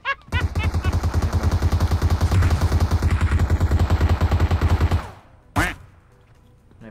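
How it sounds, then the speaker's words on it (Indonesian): Automatic weapon fire in PUBG Mobile: a long rapid burst of evenly spaced, punchy shots lasting about five seconds, then one more sharp shot after a short pause. "Ada yang nembakin tuh dari jauh"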